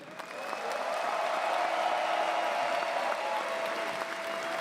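Sustained applause from a crowd at an esports grand final, steady and fairly loud throughout, with a faint tonal hum running underneath.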